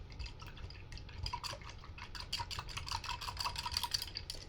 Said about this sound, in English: Okay, and I'm going to wash my brush.